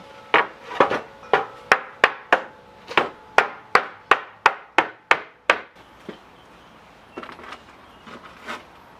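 Steady hammer blows strike wood while a planter is being built, about a dozen sharp, evenly spaced knocks in quick succession, close and loud, followed by a few lighter scattered taps.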